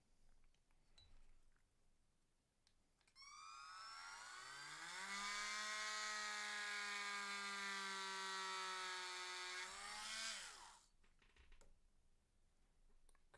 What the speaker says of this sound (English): just drilling it in